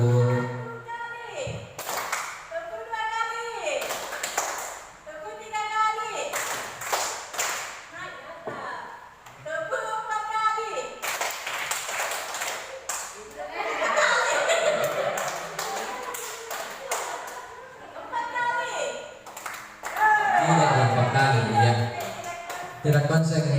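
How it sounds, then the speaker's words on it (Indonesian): An audience at a school positive-culture program gives a few rounds of scattered clapping and taps, broken up by someone talking over a loudspeaker between bursts. "saya lihat bisa tepuk tangan sekali"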